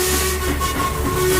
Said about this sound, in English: his focus was broken by his own whistle